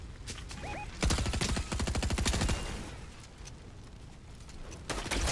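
Rapid gunfire in the video game Fortnite, loud bursts of automatic fire in the middle of the clip with quieter shots before and after, mixed with game sound effects.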